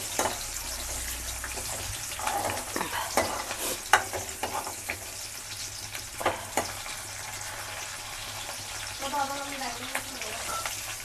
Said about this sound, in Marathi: हा कांदा थोडासा भाजला, थोडासा लालसर असा होईपर्यंत ह्याला मस्त